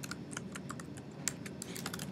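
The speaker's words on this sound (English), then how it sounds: "and start typing in new words" Someone types on a computer keyboard, quiet, irregular clicking keystrokes, close and faint, in short bursts with small pauses and one slightly sharper tap.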